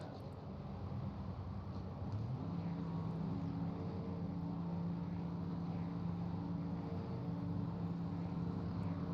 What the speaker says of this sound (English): I hear the engine revving, getting ready to take off.